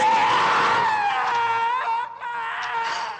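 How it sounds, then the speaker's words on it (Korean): A long, piercing wailing scream in a horror film rings out loud and close, wavering in pitch for about three seconds with a brief break near the end. "두 번째 비명이 울려 퍼지자"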